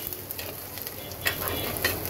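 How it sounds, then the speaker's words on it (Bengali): Onion lightly frying in a pan, heard as a soft, steady sizzle and crackle up close, with a couple of brief stirring scrapes and no voices. "চলো পেঁয়াজটাকে একটু হালকা ভেজে নিই।"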